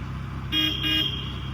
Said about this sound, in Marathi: त्या गाडीचा हॉर्न आहे